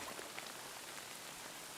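Brief stretch of ambient rain in Kingdom Come Deliverance 2, a soft, continuous patter of drops hitting surfaces, low in level and unbroken, with nobody speaking.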